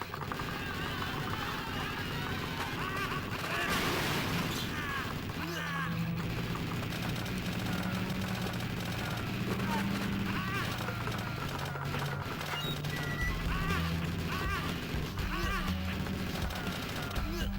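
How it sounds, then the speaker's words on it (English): Bursts of rapid retro Sega video game gunfire repeat over a busy game soundtrack with explosions and low tones, fairly faint throughout, while a person talks in places. "These are them same bullets from Ghost Pilots."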